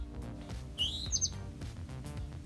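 Short synthetic bird chirps from an Apple Watch hourly chime, two quick tweeting bursts near the middle heard over a steady low background hum.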